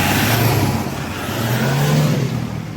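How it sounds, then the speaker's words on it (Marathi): A car engine that had refused to start finally runs and revs, its pitch rising and falling over a steady idle, close by with no talking. "फायनली गाडी चालू झाल्या."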